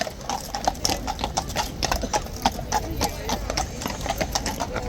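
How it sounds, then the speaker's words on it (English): A large police horse at Horse Guards walks on hard pavement, its hooves clip-clopping in a steady close rhythm amid crowd noise, with a voice talking over the hoofbeats. "Look at this spectacular horse."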